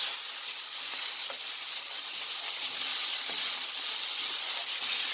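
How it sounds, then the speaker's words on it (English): Chopped onions and garlic sauté in a hot pan with a steady, close, hissing sizzle that carries on evenly throughout. "just put the onions and the garlic in the pan"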